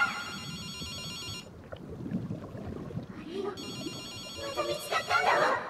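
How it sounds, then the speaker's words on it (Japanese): A telephone rings in the video game GhostWire: Tokyo, its electronic bell tone pulsing in two bursts with a pause between, over game background sound and talk. "ちょっと待ってて、僕が電話に出てみるよ。"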